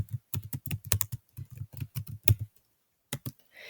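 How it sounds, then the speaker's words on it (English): Someone types a password on a computer keyboard: a quick, irregular run of close, crisp key clicks, a brief pause, then a few final taps, with nothing else audible. "Then you're going to type in your password."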